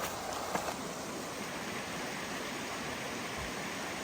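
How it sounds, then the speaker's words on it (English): Brown Mountain Creek flows beside the Appalachian Trail with a steady, even rush of water, a moderately faint wash in the background with no other sounds. "we're still hiking along Brown Mountain Creek. That's right over here in the background."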